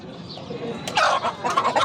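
Chickens and roosters at the crowded Edirnekapı poultry market give a quick burst of clucking and squawks over a low background murmur, close and fairly loud in the final second.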